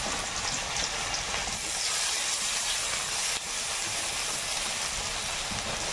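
Giant live river gagra fish frying in a pan with loud, steady bubbling and hissing sizzle, close and continuous throughout with no voices.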